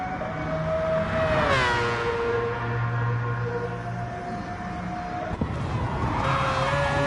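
A race car engine pulls at full throttle on a flying lap during a pre-season race, its tone rising and falling through gear changes, loud and close with a brief tire squeal.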